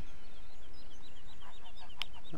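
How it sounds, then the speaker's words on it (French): Geese on a farm in the video game Farming Simulator 17, a few faint honking calls scattered over steady background noise, with one brief sharp sound near the end. "On va aller voir les oies."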